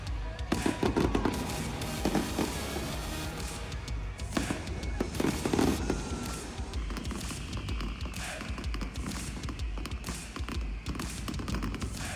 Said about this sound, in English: they put on a fireworks display